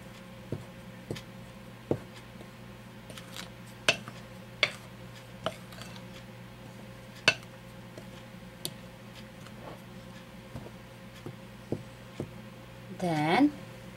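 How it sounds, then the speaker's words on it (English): Dry bread-roll ingredients are mixed in a bowl with a utensil, producing sparse, sharp ticking and tapping clicks at irregular intervals over a quiet background, with a brief rustle near the end. "mix all the dry ingredients"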